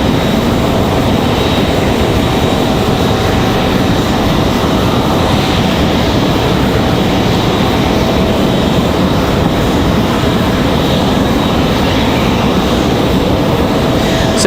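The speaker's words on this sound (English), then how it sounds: "So enjoy the next few minutes of audio from Air France. You can leave the radio on and enjoy the engine sounds." Air France airliner engines at Raleigh-Durham International Airport, a loud, steady broadband roar that holds without a break throughout, with no voices over it.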